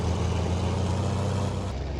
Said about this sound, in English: we bought noisy tractors.